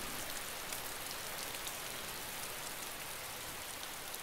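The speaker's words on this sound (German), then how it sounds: "Der scheiß Regen, der macht die Sache natürlich jetzt nicht einfacher" Steady rain falls in the DayZ video game, a dense, even hiss of drops on surfaces that continues unbroken throughout, with no voices.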